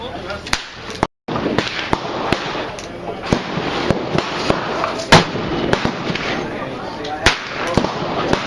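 Suppressed shots from a North American Arms 1860 Earl .22 revolver fired outdoors: a string of sharp, evenly spaced cracks over a steady background, with people talking between shots.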